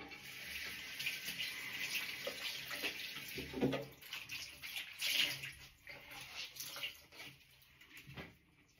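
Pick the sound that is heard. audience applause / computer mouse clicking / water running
water running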